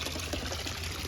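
Water flowing steadily through a garden pond pump and UV clarifier, a dense, even rushing wash with no pauses, heard alone and fairly loud.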